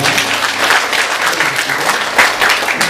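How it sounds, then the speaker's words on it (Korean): Steady applause from a church congregation during a Sunday service, continuous clapping with no voices standing out, holding at an even level throughout. "박수로 축하드리겠습니다."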